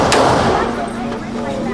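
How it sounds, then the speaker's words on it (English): A single gunshot at a shooting range sounds at the start with a sharp crack, then a loud, broad blast and ringing wash of range noise filling the rest. "That was a great last shot."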